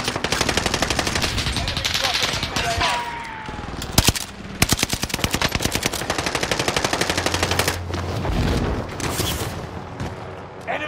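Call of Duty Warzone gunfire: near-continuous loud automatic bursts with sharp individual cracks and a few heavier booms, sustained throughout with slight dips in intensity.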